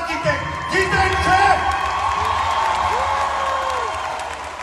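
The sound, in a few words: audience applause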